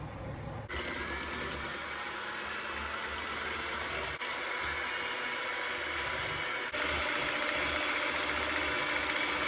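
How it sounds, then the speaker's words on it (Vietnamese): A six-speed electric hand mixer set to speed 4 whips eggs and sugar for sponge cake batter, giving a steady, close, high-pitched motor whir with a brief pause early on and a faint rattle of the beaters against the bowl. "Giờ thì mình sẽ đánh bông cái trứng này lên. Cái máy mình 6 số thì mình đánh ở số 4 nha."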